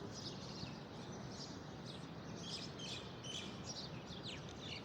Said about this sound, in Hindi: परिंदों की आवाज़ें, चिड़ियों की चैन चैन चैन कितनी प्यारी लग रही है